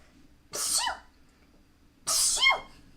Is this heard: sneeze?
yes